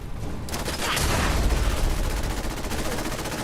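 Gunfire in Fallout 4 crackles in a dense, rapid burst that swells into a heavy booming volley, then keeps rattling loudly and continuously to the end.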